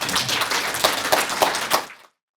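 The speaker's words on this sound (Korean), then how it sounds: "여러분 큰 박수로 맞이해주시면 감사하겠습니다." An audience at a lecture welcomes the speaker with applause, a steady round of clapping with a few louder bursts before it cuts off abruptly.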